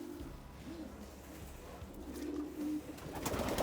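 Pigeons in a breeding loft give low, repeated coos at moderate distance, layered over a steady background hum and faint rustling, with no talking.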